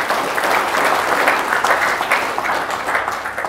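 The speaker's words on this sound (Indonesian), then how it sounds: "Tepuk tangan untuk kepolisian." A crowd applauds for the police at an Indonesian religious talk, a dense, even burst of clapping held at steady loudness throughout, with no voices over it.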